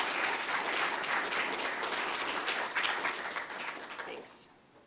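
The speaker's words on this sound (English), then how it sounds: "you're supposed to clap first" An audience claps after a college lecture, a dense burst of steady applause from a room full of people that tapers off and fades out near the end.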